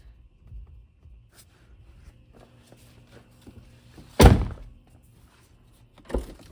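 The door of a wrecked 2022 Tesla Model 3 shuts with one solid, close thud, followed about two seconds later by a softer second knock, amid quiet shuffling.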